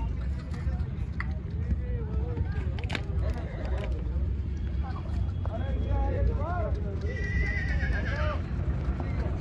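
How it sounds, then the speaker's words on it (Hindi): A hot-blooded Marwari stallion at a stud farm neighs in several rising whinnies while its hooves clop on the ground; people talk throughout, and the animal's calls sound close and fairly loud. "बहुत गर्म खून का घोड़ा है ये"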